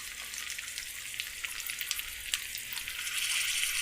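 Pasta aglio e olio sizzling in a pan with parsley and lemon juice, a steady bright crackling fry with scattered pops that grows slightly louder toward the end, with no voices.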